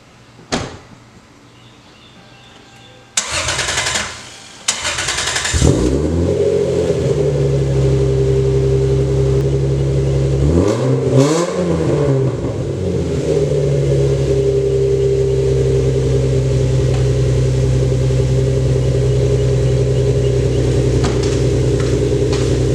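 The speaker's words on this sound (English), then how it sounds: "I'll go ahead and set the camera down and I'll do a little startup shot. And you guys can see how she sounds." A Lexus SC300 engine cranks briefly, then catches and settles into a steady, loud idle with a couple of rising and falling revs partway through, recorded close with no talking.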